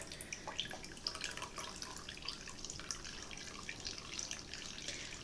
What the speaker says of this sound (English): And it's still draining.